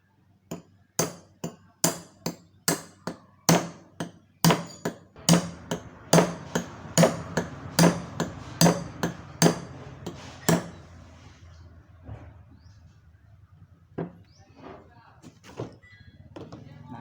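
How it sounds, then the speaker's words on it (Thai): A hammer taps a part into place on a Hatari table fan in a steady, quick rhythm of sharp taps, then slows to a few scattered blows before stopping. "แล้วก็ใช้ค้อนตอกไปนะ ใช้ค้อนตอก"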